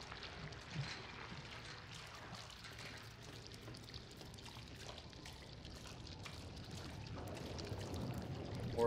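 Ink drips and trickles in the Bendy and the Dark Revival video game, a faint, steady liquid patter heard alone, with a slightly fuller pour toward the end.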